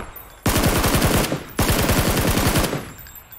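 Automatic gunfire in PUBG on Xbox, aimed at someone in a compound: two loud, rapid bursts of machine-gun shots, each over a second long, separated by a brief pause, close and dominant with no talk.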